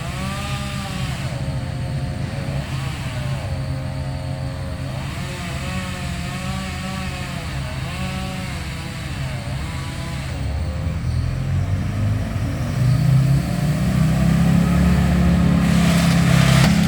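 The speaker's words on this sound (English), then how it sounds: "someone's running a chipper shredder" A chipper shredder runs during tree clearing near power lines, its engine holding a steady droning whine that swells into a heavier, louder rumble over the final seconds, with no voices.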